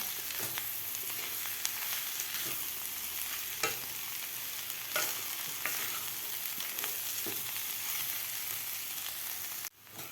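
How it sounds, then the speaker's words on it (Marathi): Potato being stirred into spice masala in a pan for Mumbai-style vada pav filling, a soft continuous sizzle with occasional spoon scrapes and clicks, quiet and steady without any talking. "आपल्याला व्यवस्थित हे खालच्या मसाल्यामध्ये मिक्स करून घ्यायचा आहे बटाटा"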